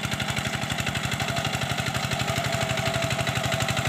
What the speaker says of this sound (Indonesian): proses pembajakan tanah menggunakan mesin seperti ini